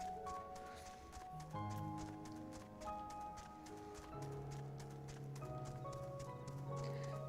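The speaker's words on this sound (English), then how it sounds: "I'm listening to the sounds of the footsteps." Footsteps of a horse mount in the video game Final Fantasy XIV, a steady clip-clop beneath loud game music with layered sustained tones, running the whole stretch at moderate level.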